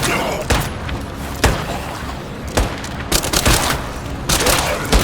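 Gunfire in the video game State of Decay 2: a series of loud, sharp shots and booming blasts at irregular intervals over a steady rumbling game background.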